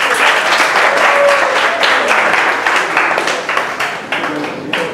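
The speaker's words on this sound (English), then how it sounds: "Everybody give Gerald a round of applause." A room full of people gives a sustained, dense round of applause for a volunteer in a pink shirt called up to the front during a talk on engineering innovation, staying loud throughout.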